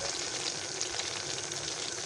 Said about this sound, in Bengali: তেলের পিঠার বেটারটা এখানে তৈরি করা আছে, তেলে ভেজে নেব শুধু